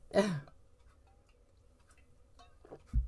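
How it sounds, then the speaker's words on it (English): A single sharp cough bursts out near the start, followed by quiet, then a brief throat-clearing rasp near the end. "Gonna start coughing."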